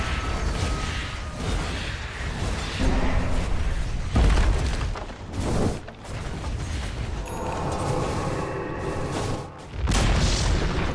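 A tower in Dota 2 crumbles with a loud booming explosion and rumbling debris, thick layered game effects continuing around it over several seconds.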